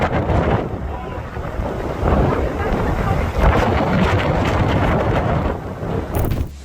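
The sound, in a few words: boat in strong wind and waves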